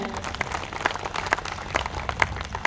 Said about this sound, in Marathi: मान्यवर पूजन करत आहेत, आपण टाळ्या वाजवायला काहीच हरकत नाही आहे